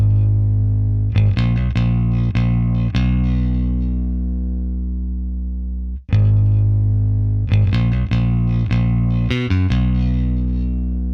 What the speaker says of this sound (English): I added a tiny bit of distortion